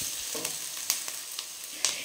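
Chicken and corn frying in a pan, a faint, steady sizzling hiss with a few light scrapes and ticks of stirring, with no talk.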